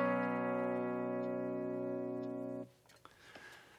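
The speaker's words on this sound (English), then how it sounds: "And then we move down to the 4 chord that we learned already" A sustained 4 chord strummed once on guitar rings for over two seconds, then cuts off, leaving faint rustling and small handling noises.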